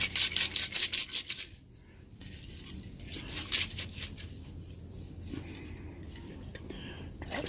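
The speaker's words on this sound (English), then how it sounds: "Here are them BBs rolling around in there." BBs rattle and roll inside the kerosene tank of a Coleman 249 lantern as it is shaken, in bursts of bright metallic clatter with short pauses between, close and fairly loud.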